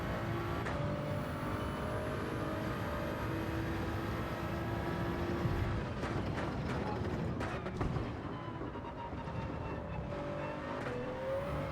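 Toyota Supra engine holding sixth gear in a racing video game, a steady loud drone running throughout with tonal whine, faint mechanical clicks and a brief rougher patch near the middle.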